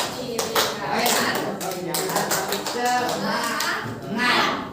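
Children clap short rhythmic patterns in a classroom, the claps coming in quick bursts and groups under the chanting and talking of kids and a teacher.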